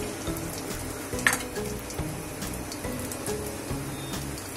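Cardamom, cloves and a cinnamon piece sizzle in hot ghee in a pan for coconut rice, a steady close frying crackle with occasional stirring clinks.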